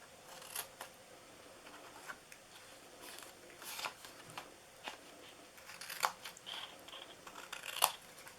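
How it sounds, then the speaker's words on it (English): Scissors snip through craft paper pieces for a DIY holiday mailbox gift box, giving faint, scattered crisp cuts spread unevenly across a quiet room with no talking. "And you're going to cut these all straight so the bottom's straight."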